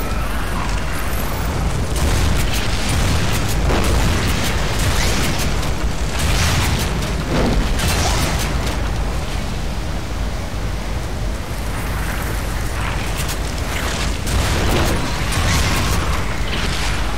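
Disc grenades detonate in the video game Lost Planet 3, producing repeated booms and crackling bursts that run continuously through dense, noisy game audio for the whole stretch.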